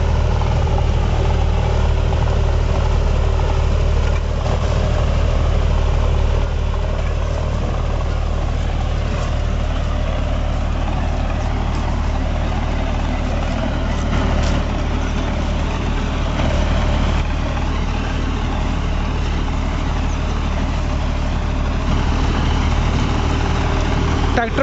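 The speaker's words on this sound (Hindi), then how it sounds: "ट्रैक्टर भी दोस्तों फुर फुर करके चल रहा है, कोई घसड़ पसड़ की आवाज इसमें बिल्कुल भी नहीं है।" A John Deere 5405 4WD tractor pulling a 3-bottom Lemken reversible plough runs at a steady, low, even drone, heard close and continuous with no clanking, while a voice talks intermittently over it.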